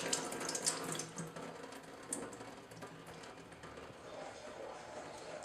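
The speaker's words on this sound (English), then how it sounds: "So I'm just going to drain out all the water." Water being drained off soaked basmati rice, a faint trickling and splashing pour with small irregular spatters, steady throughout at low level.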